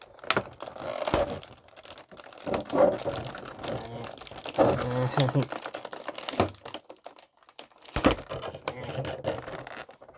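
Taped packaging of a figure stand is torn open, giving bursts of crinkling plastic, ripping tape and rustling cardboard at close range, interspersed with a person talking.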